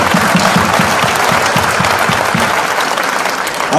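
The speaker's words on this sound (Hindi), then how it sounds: "तो ताली वाली तो बजाओगे" A crowd at a large youth dialogue event in Bhopal claps steadily, a dense, loud burst of applause that holds evenly throughout.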